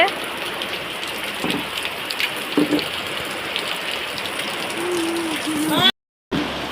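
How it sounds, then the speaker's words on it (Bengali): Heavy rain pours down in a dense, loud, even hiss of drops striking surfaces, with faint voices briefly in the background before the sound cuts out near the end. "এই দেখো কত জোরে বৃষ্টি নেমেছে"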